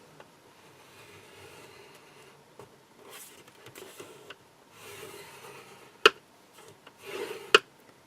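A pencil traces lines across a square wooden board, making soft, faint scratching and rubbing strokes close by, with a few sharper taps where the pencil or ruler is set down.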